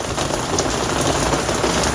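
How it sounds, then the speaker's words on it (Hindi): Rain pouring steadily outside on a balcony in the Pacific islands, a dense, even hiss of drops hitting surfaces that continues without a break, close and fairly loud, with no talking. "बाहर तो बारिश हो रही है"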